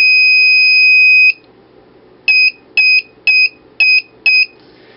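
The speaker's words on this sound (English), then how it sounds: "the piezo buzzer should go off" A loud, shrill electronic tone from a piezo buzzer on an Arduino board holds for over a second, then five short sharp beeps follow in an even rhythm, close up.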